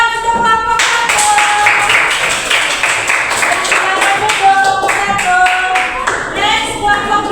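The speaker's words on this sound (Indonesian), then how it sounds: "beri tepuk tangan untuk kelompok satu" A classroom of students claps for a group that has just presented, a fairly close, steady patter of hands with some voices mixed in underneath.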